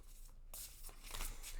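A deck of tarot cards is shuffled in a quiet room, giving soft, close riffling bursts that come in short waves with no voices over them.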